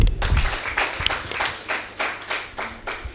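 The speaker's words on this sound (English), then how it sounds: "Let's clap for him." Steady applause from an insurance conference audience, many hands clapping at once in a dense, continuous patter that holds evenly throughout.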